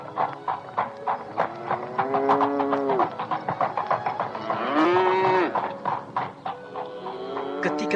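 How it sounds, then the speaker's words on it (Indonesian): A cow moos repeatedly and loudly, long drawn-out calls with rising and falling pitch, as an old man rides in on the animal; no speech over it. "saat itu datang lelaki tua menunggang sapi"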